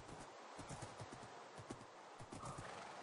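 A horse in Minecraft 1.8 gives a steady run of clip-clopping hoofbeats with a faint whinny mixed in, fairly close and continuous, with no talking.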